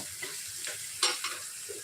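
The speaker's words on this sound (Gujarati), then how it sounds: "થોડું મીઠું ઉમેરવાથી ઝડપથી બટેટા અને ડુંગળી બંને સરસ રીતે સેલો ફ્રાય થઈ જશે" Potatoes and onions shallow-fry with a little salt in a pan, giving a soft sizzle under a few faint stirring scrapes and light clinks, close and fairly quiet.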